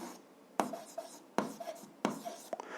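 A pen scratches out a seventh-grade algebra solution by hand on paper, a few sharp strokes and taps in quick succession, faint and close, with no talking.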